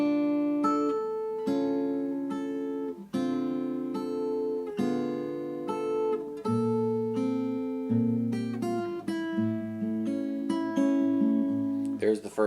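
A guitar plays the melody of a song from the first verse, picked single notes moving over a chordal accompaniment, clear and close with steady phrasing throughout.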